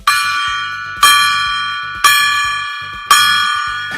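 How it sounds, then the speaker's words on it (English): A good luck gong from Shanghai is struck four times at steady one-second intervals, each loud metallic hit ringing out with a long bright shimmer that decays before the next stroke. "We're going to hit the gong. It's the good luck gong from Shanghai."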